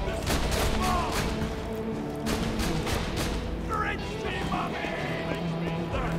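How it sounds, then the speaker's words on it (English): Gunfire in Borderlands 2 rattles out in rapid bursts of shots and thuds, densest at the start, mixed with game noise while a player talks over it. "Where the heck am I getting shot from?"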